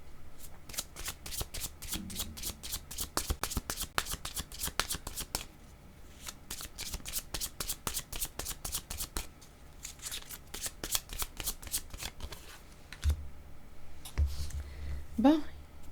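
Tarot cards being shuffled by hand, a long run of rapid riffling flutters that pauses briefly and then resumes, close and steady, with a voice speaking near the end.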